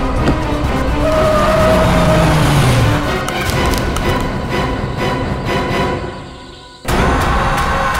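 A taxi speeding along with a steady, loud engine and road roar, a falling whine near the start, then a brief dip in sound before the rush resumes abruptly.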